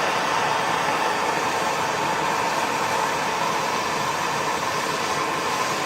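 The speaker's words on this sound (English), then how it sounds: "This torch will do it in pretty short order." Bernzomatic TS8000 gas torch heating a metal pipe for forging tapers, producing a steady, close, roaring hiss that holds constant throughout without pause.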